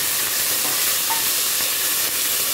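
Meat and dill frying together in a pot for an Iraqi-style spinach soup, a steady close sizzle and hiss with faint stirring, no voices.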